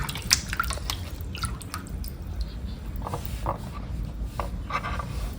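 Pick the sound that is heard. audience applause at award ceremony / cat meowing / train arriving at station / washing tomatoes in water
washing tomatoes in water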